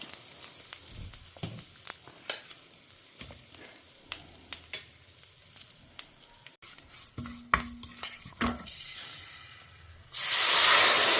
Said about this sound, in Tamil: கடுகு வெந்தயம் போட்டிருக்கேன், பொரியட்டும்